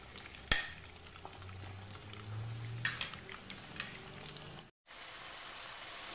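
Vegetables fry quietly in a pan with tomato sauce and garlic, giving a soft steady sizzle with a sharp clink early on and a brief dropout near the end, no voices.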